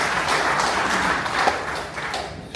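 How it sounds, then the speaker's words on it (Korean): A church congregation applauds for the pastors' wives, a brief burst of dense clapping that stays fairly even throughout, with a few sharper individual claps standing out near the end. "우리 사모님들 같이 오신 분들 위해서 박수 한번 해주십시오"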